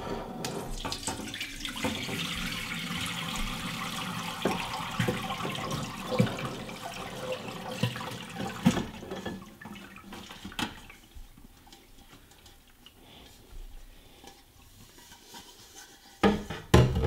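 Soaked sorrel buds are strained and the dark liquid pours steadily into a container, a loud, continuous splashing that lasts about nine seconds and then thins to quieter trickles and drips.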